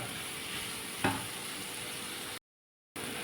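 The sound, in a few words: garlic, cashews and coriander leaves frying in a pan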